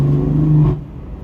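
A BMW M4 engine revs loud and close with its exhaust valves open, a sustained droning rev that cuts off sharply into a fading rumble.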